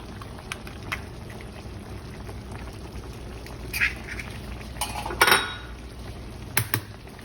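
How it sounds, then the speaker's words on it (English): Two eggs are cracked over a bubbling hot keto brunch skillet, with a few sharp clicks and clatters of shell and pan over a soft, continuous sizzle and bubbling. "while it's bubbling hot, what we're gonna do is crack 2 eggs over it"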